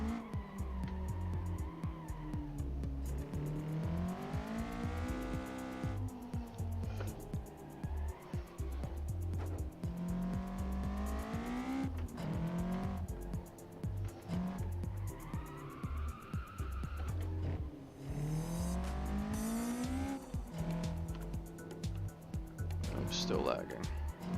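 Car engine revving and shifting pitch with tire squeal as the car oversteers through turns in a racing video game, loud and continuous, with a person talking over it throughout.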